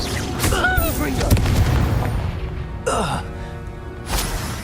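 Explosive Confringo spell bursts in the Hogwarts Legacy game, a loud boom amid busy combat sounds and a shouting voice, with a second blast near the end.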